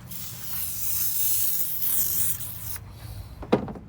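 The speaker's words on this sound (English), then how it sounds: "Another spray down." A spray bottle hisses in a long continuous spritz during headlight restoration, then falls quiet, ending with a short sharp click or tap.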